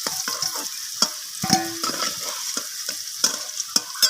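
Potato pieces fry in hot oil with turmeric and salt, a steady crisp sizzle broken by regular scraping stirs of the spoon against the pan, close up and without speech.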